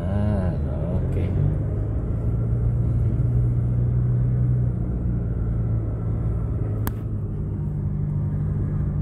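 Steady low engine rumble and road noise from inside a car driven during a driving school lesson, continuous and close, with faint voices under the hum.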